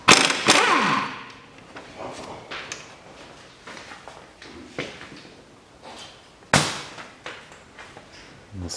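Impact wrench working the front suspension bolts of a 2005 Peugeot 407 1.8 during a lower ball joint replacement, giving several sharp, loud bursts separated by quieter clanks and rattles in a workshop.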